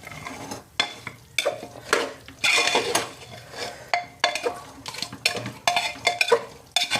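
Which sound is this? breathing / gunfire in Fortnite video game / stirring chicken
stirring chicken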